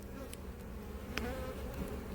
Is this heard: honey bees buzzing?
yes